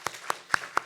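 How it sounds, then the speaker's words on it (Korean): Four sharp, evenly spaced hand claps ring out in a church congregation, each crisp and close, with brief silences between them. "다시 한번 우리 박수로 다시 한번."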